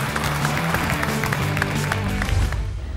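Studio audience applause on a Georgian television comedy contest show, steady dense clapping at moderate loudness over a continuous crowd roar, with some voices mixed in.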